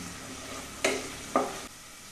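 Garlic, ginger and green chilli frying on a low flame give a soft, continuous sizzle, with two brief louder spatters as the pan is stirred.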